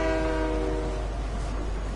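Train in the Fortnite video game, a loud sustained horn-like tone with steady harmonic bands for about a second, then fading into continuous rumbling rail noise.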